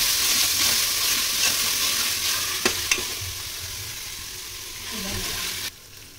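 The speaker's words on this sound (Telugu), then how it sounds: "తర్వాత పుదీనా, కొత్తిమీర ఇది మొత్తం వేసి దాంట్లో ఫ్రై చేయాలి. దీన్ని మళ్ళీ దాని తర్వాత మిక్స్ చేయండి బాగా ఆ ఫ్రైలోనే." Mint, coriander and onions fry in oil for chicken biryani, a steady loud sizzle with stirring and a couple of sharp spoon taps against the pan, no talking.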